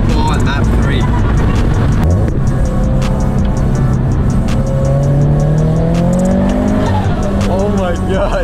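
Turbocharged Subaru BRZ fitted with an HKS turbo kit accelerating hard in second gear, a loud rising engine note climbing steadily with turbo whine, heard from inside the car.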